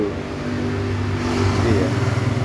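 A Suzuki Shogun motorcycle engine, fitted with a replacement CDI and a PWK carburetor, runs close up with a loud, steady pulsing throb that swells slightly toward the end.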